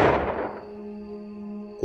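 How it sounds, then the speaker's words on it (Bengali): A single gunshot fires in a horror cartoon: one sharp, loud blast that rings out and slowly fades, leaving a quiet humming tail. "আবার গর্জে উঠল বন্দুক।"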